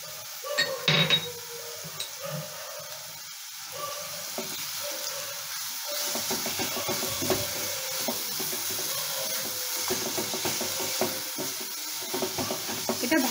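Shrimp paste frying in oil for a Bengali chingri chop, a steady broadband sizzle running throughout with a brief clink near the start and occasional stirring scrapes, close and moderately loud.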